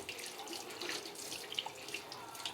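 Hulled white sesame seeds, bought packaged, are washed under a running kitchen tap, giving a steady close splashing and trickling of water throughout with no talk.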